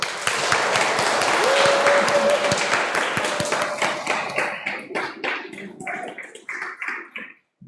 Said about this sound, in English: we need to give them a massive clap and cheer for all that they've done